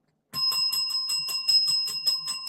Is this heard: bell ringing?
yes